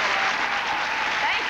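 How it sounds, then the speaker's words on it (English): Audience applause at a church sermon service as a preacher's wife is introduced: dense, steady clapping from a large crowd, close and fairly loud, filling the whole moment without a break. "Everybody give her a good hand clap."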